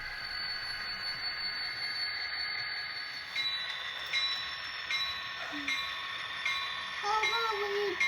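An N scale model coal train runs around an indoor layout with a continuous faint whirring and hiss. Light clicks and a brief squeal come near the end, and a voice is heard faintly in the background.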